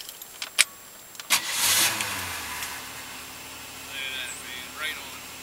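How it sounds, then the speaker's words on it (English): A 1962 Ford Fairlane with a freshly rebuilt 200ci six, valve job done, cranks briefly on the starter and catches, settling into a close idle after a few sharp clicks, with people talking nearby. "Shut it off and hit the starter. See how it starts up."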